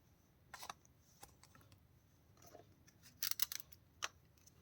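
Tarot cards being shuffled by hand: a few faint, crisp papery riffles and snaps scattered across a quiet background, including a brief quick flurry near the end.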